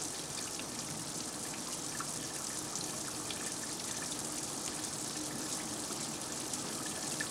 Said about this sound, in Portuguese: Depois de terem sido encharcados por um jato de água pulverizada durante 1 hora